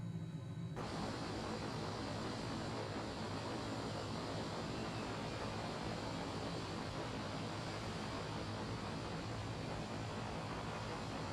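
Jet engine afterburner roars in a flight video game, a loud steady broadband rush that swells up suddenly near the start and then holds as a continuous dense roar, with no speech.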